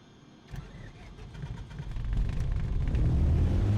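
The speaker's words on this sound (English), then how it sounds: "We're going to turn the engine on." A propeller plane engine starts up in Microsoft Flight Simulator after the magneto is switched on, a click followed by a cranking rumble that swells into a loud, steady low drone.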